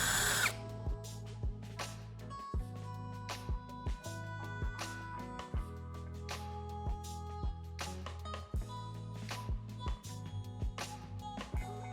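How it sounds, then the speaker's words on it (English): Power drill with a steady motor whine enlarging the bottom of an LED bulb housing, broken by many short sharp clicks and scrapes at irregular intervals, close and alone. "I will use a drill to enlarge the bottom of the LED light housing"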